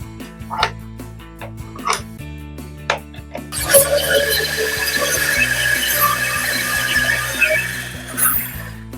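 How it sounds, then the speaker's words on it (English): A power tool cutting a piece of StarBoard marine plastic on a sunken boat restoration, a few whining bursts and then a loud sustained grinding, shrill cut, close up. "cutting up this piece of StarBoard"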